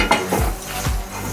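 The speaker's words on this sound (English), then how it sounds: "I'm gonna hit the frying pan with some olive oil right now" Olive oil sizzling in a frying pan on the stove, a steady hiss with a few soft scraping and stirring knocks of a utensil against the pan.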